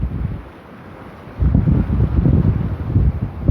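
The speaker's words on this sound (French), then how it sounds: "Vous entendez le vent," Wind on the sandy beach at Saintes-Maries-de-la-Mer in the Camargue, a low blustery rumble that is quieter at first, then surges into loud, continuous buffeting with faint lapping water beneath.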